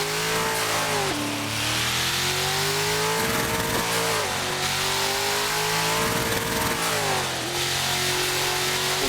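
A Ford Mustang engine in Assetto Corsa revs hard under acceleration, loud and continuous, its pitch climbing steadily and then dropping abruptly at each gear change, repeating several times.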